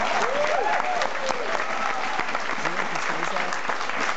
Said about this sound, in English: Give a round of applause to the lighting guys in the back.